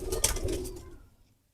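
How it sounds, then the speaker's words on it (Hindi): A Sialkoti pigeon gives a short cooing call close by, then fades out to near silence. "शाह जी के पास सियालकोटी कबूतर भी बहुत लाजवाब है"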